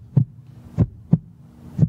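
Heartbeat sounds drive the rhythm of a film score, heard alone as four deep, thudding pulses at an uneven tempo, close and fairly loud.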